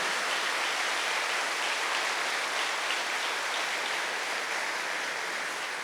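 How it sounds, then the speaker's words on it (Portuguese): A church congregation at a sermon bursts into loud, dense, sustained applause, a continuous wash of many hands clapping together with no voices on top, easing slightly toward the end. "Eu gostaria que você aplaudisse a misericórdia de Deus, mas aplaudisse agora com todas as forças."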